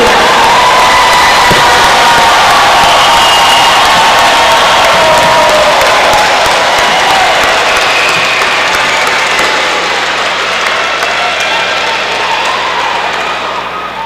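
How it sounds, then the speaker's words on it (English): Graduates at a community college commencement ceremony give long, loud applause with cheering and whoops from a large crowd, fading slightly toward the end. "look out there, and applaud all of those that helped you"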